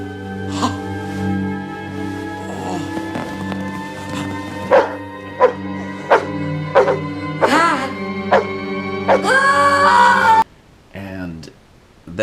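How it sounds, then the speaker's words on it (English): Dogs barking and yipping in a scene from the 1994 horror film Witch Hunt, repeated loud barks at irregular intervals over a sustained musical score. "And then some dogs tear him apart."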